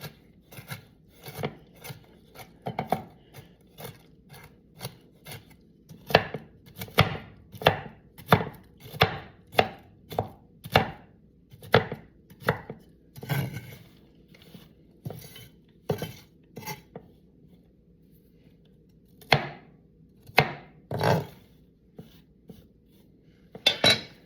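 A knife chops toasted pecans on a cutting board, a long run of sharp, evenly spaced close knocks with brief pauses, a few scattered cuts toward the end, no talking.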